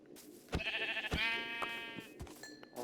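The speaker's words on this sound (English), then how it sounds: "Let's just kill the sheep." Sheep in a survival video game bleat loudly, one long wavering call after a short one and a few fainter bleats trailing off, with no one speaking over them.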